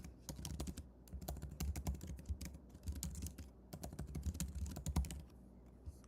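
Rapid typing of code on a computer keyboard, with dense, uneven bursts of close key clicks running continuously for about six seconds and no talking.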